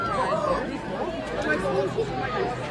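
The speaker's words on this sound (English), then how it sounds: "See the crowds here now." A crowd chatters at a bonfire night in Northern Ireland, with overlapping voices babbling close by at a steady level.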